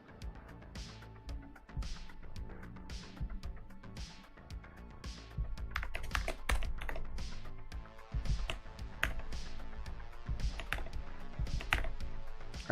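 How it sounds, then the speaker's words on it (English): Computer keyboard typing with spacebar presses during a coding session, a dense run of close clicks and taps with sharper, louder strikes in the second half. "I was hitting spacebar right there."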